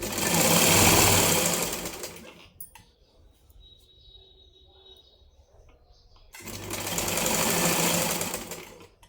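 A sewing machine stitching a blouse lining runs in two loud whirring bursts, one at the start and one near the end, separated by a quiet pause of several seconds with faint handling sounds.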